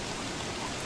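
Steady rain from the video game Don't Starve hisses as a dense, even wash of noise, loud and unbroken with no voices.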